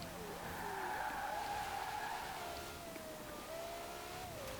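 Porsche Carrera GT V10 from 2003 at steady high speed on a motorway in Forza Horizon 4, a sustained droning engine tone with shifting pitch lines, continuous and fairly close with no talk.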